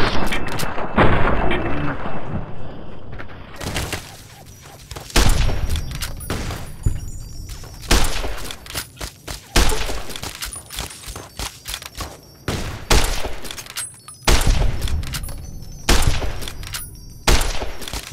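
Gunfire in Fallout: New Vegas: repeated loud, punchy shots and heavy bursts fire in irregular clusters throughout a long firefight, with occasional booming impacts.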